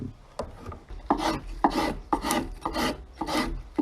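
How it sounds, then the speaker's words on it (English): A spokeshave shapes a wooden tool handle in about seven rhythmic, close rasping strokes, each a short scraping shave against the wood. "now to spend absolutely ages with a spoke shave, rounding it out"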